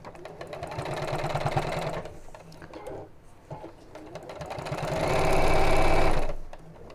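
A sewing machine stitches a lining piece in close, rapid bursts, running for about two seconds, pausing briefly, then speeding up louder before stopping, with no talking.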